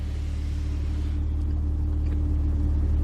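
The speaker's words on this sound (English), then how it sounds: "I'm going to put this car into gear in this manner, shift this to the right" A 2021 BMW M3 Competition idles with a steady low engine rumble as it is shifted into gear, the drone constant and close with a slight swell toward the end, no voices.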